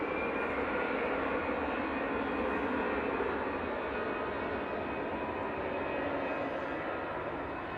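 A jet airliner on approach to runway 05 left at Manchester Airport, a steady, loud broadband engine roar that holds evenly for the whole stretch with no voices over it.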